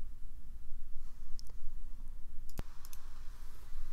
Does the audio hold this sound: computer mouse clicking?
yes